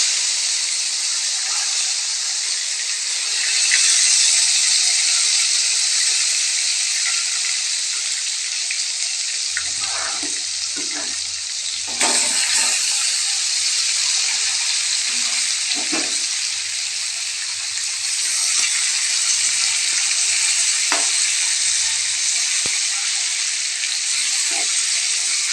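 Stuffed brinjals frying in hot oil produce a loud, dense hiss and spattering sizzle that runs the whole time, with low thumps and crackles as pieces shift in the pan.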